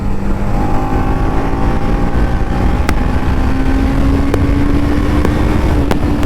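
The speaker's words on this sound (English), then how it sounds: "this engine that just loves to hit the red line" A 2022 TVS Apache RR310 BS6 motorcycle engine drones loud and steady at close range, its pitch slowly climbing as it revs, with a few sharp ticks cutting through.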